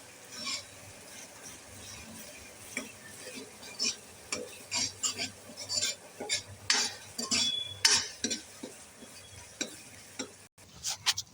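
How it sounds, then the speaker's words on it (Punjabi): Garam masala and spices roasting in a pan for an aloo gobi dish: a dry scraping, stirring texture with repeated spoon taps and clinks against the metal, moderately close, with no talking. "ਹੁਣ ਆਪਾਂ ਇਹਦੇ ਚ ਪਾਉਂਦੇ ਆ ਗਰਮ ਮਸਾਲਾ ਇਹਨੂੰ ਨਾਲ ਹੀ ਭੁੰਨ ਲੈਂਦੇ ਆਪਾਂ"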